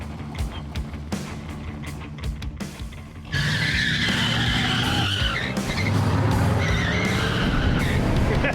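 An 80s Hurst Olds does a burnout, starting with engine noise and a sharp onset of loud, sustained tire squeal that keeps shrieking and roaring close up for several seconds.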